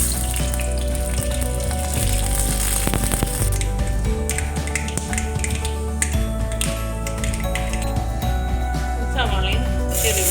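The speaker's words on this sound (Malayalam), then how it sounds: "എണ്ണ ചൂടായിട്ട് നമുക്ക് കടുക് ചേർത്ത് കൊടുക്കാം." Mustard seeds spluttering and popping in hot coconut oil in a pan for a Kerala elephant yam stir-fry, with dense crackles and sharp snaps over a steady sizzle, close and loud throughout.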